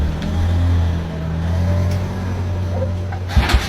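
A motorbike engine hums steadily nearby with a low, even drone, then a brief louder burst of noise near the end.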